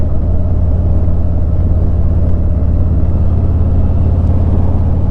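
A Milwaukee 8 two-cylinder motorcycle engine ridden at low speed gives a loud, continuous deep rumble with a pulsing low throb and steady wind noise, with no break.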